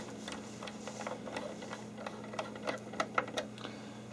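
Small screws are driven back into the case of a Needham's EMP-30 PROM programmer, heard as faint, irregular ticks and clicks over a steady low hum, growing slightly sharper toward the end.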